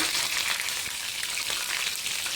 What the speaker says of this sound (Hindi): और इसके साथ मैं 1 मिनट तक इसको फ्राई करूंगी